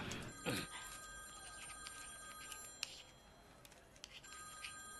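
A phone rings faintly in a classroom with a steady electronic tone, repeating through the clip against quiet room noise, in a Telugu film comedy scene.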